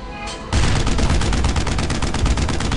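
Loud, close gunfire from WWII infantry weapons in Brothers in Arms, with a rapid, dense stream of automatic shots and overlapping bursts of suppressing fire, and no talk over it.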